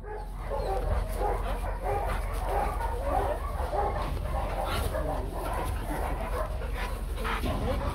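Rottweiler dogs play with a ball, barking and yipping with a few whimpers throughout, close and continuous over scuffling and ambient noise.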